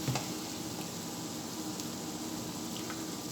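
Potato and onion tortilla sizzles and fries steadily in a pan, a continuous close crackle with small pops, unbroken and without voices.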